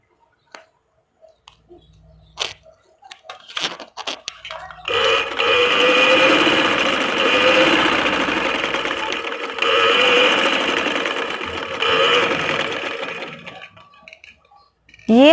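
A sewing machine stitching the hem of a kurta sleeve starts after a few clicks and handling sounds, then runs in a loud, close, continuous buzzing whir for about ten seconds before stopping with a few clicks.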